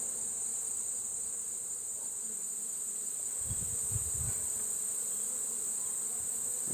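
A steady, dense buzzing of many honey bees close by in a hive, continuous throughout, with a few low thumps partway through.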